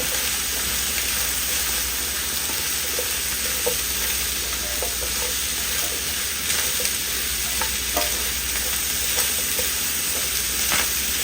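Ground beef and potatoes sizzle steadily in a hot skillet while tongs stir and scrape through them, a loud continuous frying hiss broken by soft clicks and shuffles, with no talking.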